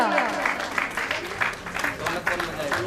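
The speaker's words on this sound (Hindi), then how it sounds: "नंद किशोर जी लाकोटिया, नाम ही ऐसा है कि जोरदार तालियां।" Steady applause from a crowd, dense clapping that carries on evenly throughout, fairly loud and close.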